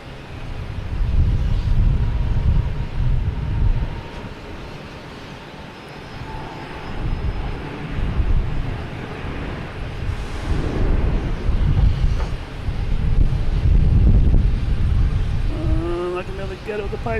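Airliner taking off at Boston Logan Airport: a loud, rumbling jet engine roar that builds and sustains, with wind buffeting the microphone and a few brief spoken words near the end.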